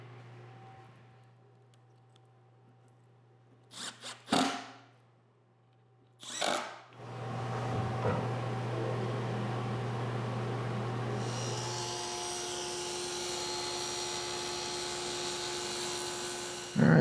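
Table saw on a crosscut miter sled: a few sharp knocks, then the motor spins up to a steady whine and the blade cuts a bevel, pitch shifting as the cut goes through.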